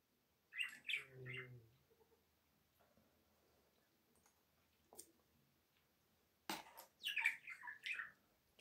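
A parrot chirps indoors during a meal, with two bursts of bright, close chirps and squawks, one near the start and a busier one near the end, separated by a quiet stretch.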